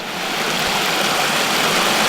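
A small waterfall on a North Yorkshire walking trail rushes steadily, a dense, constant broadband roar of falling water heard up close with no voices.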